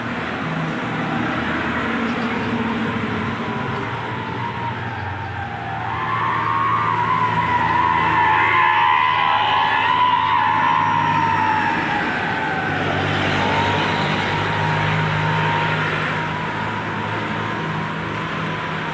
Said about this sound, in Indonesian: Lalu lintas ramai lancar.